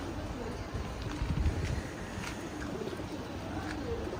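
Soft, low pigeon cooing against a steady wash of background noise, heard close by.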